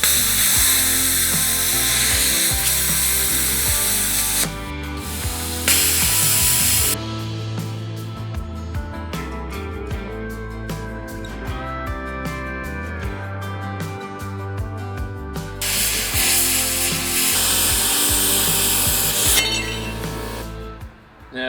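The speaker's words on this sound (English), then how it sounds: "time to plasma cutter it out" A plasma cutter slices a shackle mount from steel plate, giving a harsh, loud hiss and crackle that stops and restarts, broken by short clinks and bursts of rhythmic ticking during the cut.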